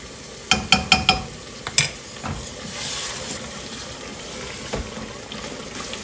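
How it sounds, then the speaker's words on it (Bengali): Meat masala with homemade garam masala is sautéed in a pan: a quick run of sharp metallic clinks and scrapes at the start, then a low, steady sizzle and occasional stirring scrapes. "আজকে মাংসটার মশলাটা একটু ভালো করে কষিয়ে নিচ্ছি আগের থেকে"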